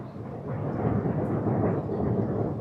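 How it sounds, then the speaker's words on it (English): Deep, rolling thunder swells and rumbles steadily through a rain shower, a broad low roar that builds slightly and holds, with no one speaking. "it's thundering right now, it's raining"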